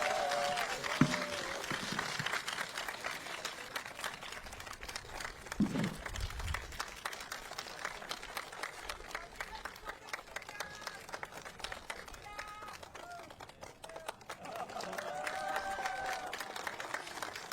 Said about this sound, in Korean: 큰 박수 한번 부탁드리겠습니다.